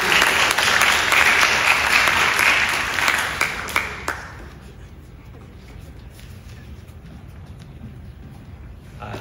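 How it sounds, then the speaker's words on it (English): Audience applause at a high school fine arts signing day ceremony, loud and dense for about four seconds before tapering off into a quiet room with scattered faint claps. "One more round of applause."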